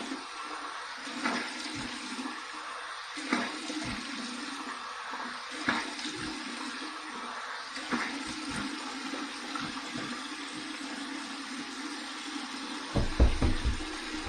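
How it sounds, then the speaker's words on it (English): Water runs from a bathroom tap for a cold rinse after a razor shave, a steady faint stream broken by splashes and soft knocks, ending with a louder burst of splashing close by. "Here's my cold water rinse."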